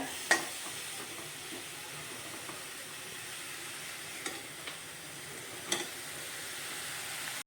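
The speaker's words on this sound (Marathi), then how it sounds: "आपण हे याच्यामध्ये मिक्स करूया" Shepu (dill) greens bhaji being stirred in a pan, a steady low sizzle with a few soft scraping clicks of the spoon, close and quiet, no one talking.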